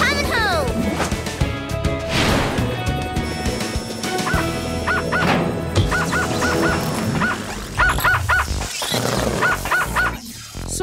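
Cartoon robot dog from a children's animated show barking and yipping in short repeated bursts, mixed under music, effects and cartoon voices talking.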